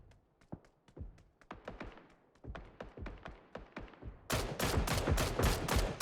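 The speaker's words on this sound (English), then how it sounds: "SDR now taking a lot of bullets towards them from multiple teams" PUBG video game gunfire in a competitive solo match: scattered single shots and short bursts give way to dense, loud continuous automatic fire in the final seconds, with no voice over it.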